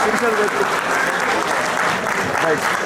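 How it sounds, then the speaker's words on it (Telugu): An audience claps loudly and steadily at a folk festival gathering in Muscat, a dense continuous wash of applause lasting a few seconds. "గట్టిగా చప్పట్లు కొట్టాలండి, అసలు చప్పట్లు కొడితే మీకు ప్రోత్సాహం"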